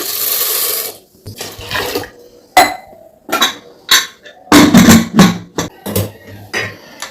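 Clinks and knocks of metal kitchenware with a brief splash of water poured into a pressure cooker holding maida, cardamom, jaggery and rice flour, in short separate bursts.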